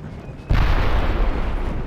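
Artillery opening fire in a Medieval II: Total War mod battle: a sudden heavy boom breaks in after a quiet moment, followed by a sustained rumbling roll of gunfire and echo, loud and fairly close.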